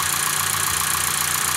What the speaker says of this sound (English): You can hear the air conditioning cycling on and off.